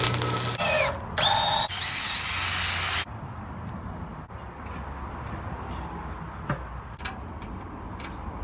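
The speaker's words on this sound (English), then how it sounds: "just drill some holes and then stand back" A power drill whirs in a few short bursts drilling holes, the first three seconds loud and close, then a quieter workshop background with occasional knocks and clicks.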